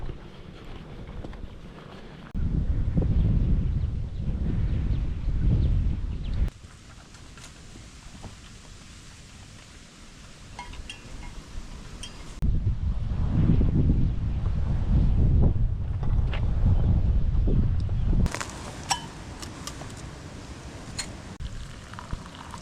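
Strong wind buffets the microphone in loud, rumbling gusts that surge and ease, with quieter spells between, outdoors on a hike near Mount Wondabyne in Brisbane Waters.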